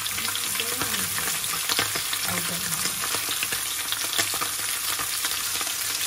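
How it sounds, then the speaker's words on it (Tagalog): Fish fries in oil over a big, high flame, giving a loud, dense, continuous sizzle and crackle close up, with faint stirring bits underneath throughout. "I-prito lang natin ng ilang seconds. Hanggang mag-brown lang yung position. Big fire ang ginamit ko"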